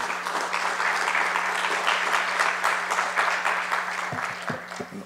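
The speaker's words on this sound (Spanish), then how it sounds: "Le brindamos un fuerte aplauso" Steady, full applause from an audience at an academic law lecture, sustained clapping throughout with a low electrical hum beneath and a few final claps as it dies away.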